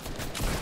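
Gunfire in the Fortnite video game: a short, dense burst of rapid shots that swells in loudness toward the end.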